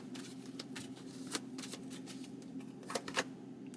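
A deck of playing cards being shuffled during a card reading, with soft riffling bursts and a few sharper snaps, fairly quiet and close with no talking.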